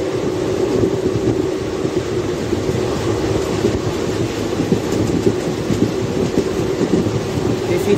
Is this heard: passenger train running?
yes